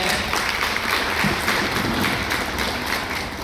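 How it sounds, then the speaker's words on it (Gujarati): An audience at a live talk event claps loudly and steadily, a dense wash of many hands applauding together with no break for the whole stretch. "એમના માટે જોરદાર તાળીઓ છે."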